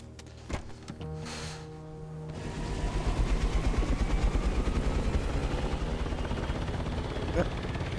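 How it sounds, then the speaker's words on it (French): Video-game helicopter whirring steadily after a couple of seconds, its rotor drone building into a continuous loud throb with occasional gunfire-like bursts, while people talk over it. "il prend l'hélico lui."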